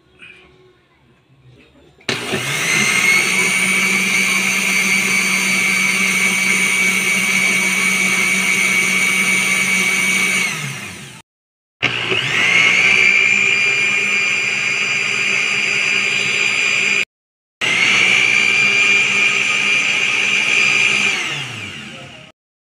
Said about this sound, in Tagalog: basta mag-blender lang po ako ng mag-blender hanggang sa maubos po ang aking mga sangkap